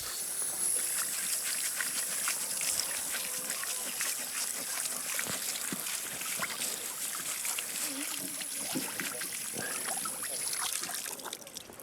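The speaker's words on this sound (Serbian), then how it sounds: "Ja ću na trenutak samo da operem rižu, idem do česme ovde." Water from an outdoor village tap runs over rice being washed in Kosovo, giving a continuous close trickle and splashing with uneven spatters over the whole stretch.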